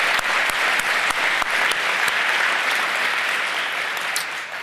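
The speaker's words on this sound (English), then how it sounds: "Give yourself a round of applause." A room full of people at a city gathering breaks into sustained applause, a dense and fairly loud wash of clapping with a few sharper individual claps, easing slightly toward the end.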